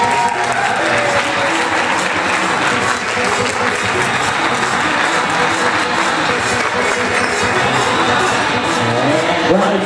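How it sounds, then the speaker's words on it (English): Sustained, loud applause with some crowd cheering fills the whole stretch as the bridal party is introduced at a wedding reception, a steady dense roar of clapping hands. "Nice round of applause for Alexis Kilpatrick."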